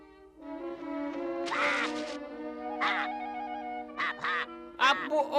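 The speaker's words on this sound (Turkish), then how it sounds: "Bu o turna kuşu." A cartoon crane bird in a Smurfs episode calls out in several harsh, nasal honking squawks, a short burst, a pause, then repeated calls over a soft background, close and clear.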